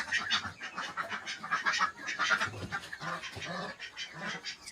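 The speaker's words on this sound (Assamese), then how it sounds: "ইয়াত হাঁহো আছে।" Ducks on a poultry farm quack and honk in a busy, overlapping chorus, with calls close by and continuing steadily throughout.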